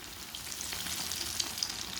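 Mini sandwiches fry in a shallow layer of oil, giving a steady high sizzle with small crackles and pops scattered throughout, close and continuous with no talking.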